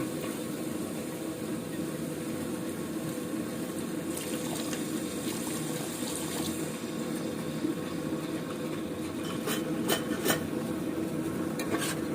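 Water poured into mutton curry masala as it cooks, a low continuous bubbling and stirring with scattered soft clinks, quiet and close with no voices.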